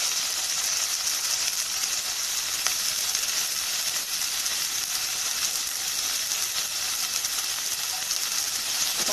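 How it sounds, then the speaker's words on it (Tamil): Sliced onion frying in hot oil in a pan for beetroot biryani, a steady close sizzle and hiss that runs unbroken throughout with no voices. "வெங்காயத்தை சேர்த்து நல்லா இது வந்து வதங்கி வரணும் வெங்காயம்"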